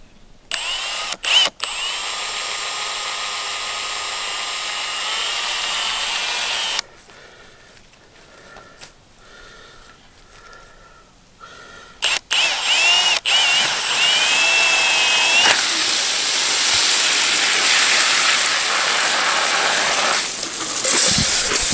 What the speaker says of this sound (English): Now I've just got to drill a hole.